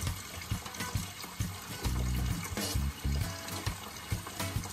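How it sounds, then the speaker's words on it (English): Tap water pours and splashes as salt is washed off hog maws during cleaning and preparation, a steady close running stream with uneven splashing bursts. "We're gonna wash that salt off"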